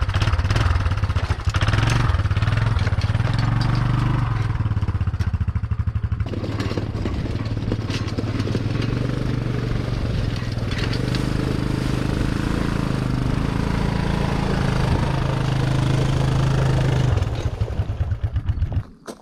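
An ATV engine runs continuously while hauling a Gorilla cart, a close, loud rattling putter that shifts pitch as the throttle changes and eases off near the end.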